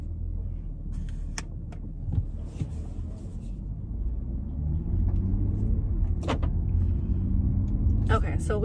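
Low engine rumble and road vibration fill the interior of a moving car, a steady near drone with a few light rattles and clicks on top.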